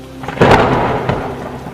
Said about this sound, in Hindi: बाहर तो बहुत तेज बारिश हो रही है